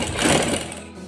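A sewing machine stitches a band onto fabric in one steady, close, continuous whir that eases off slightly toward the end, with no talk over it.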